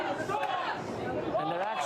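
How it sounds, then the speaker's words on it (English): A loud, boisterous crowd of election night protesters, a dense murmur of chatter and overlapping voices, heard briefly at a moderate distance. "a loud and very boisterous crowd"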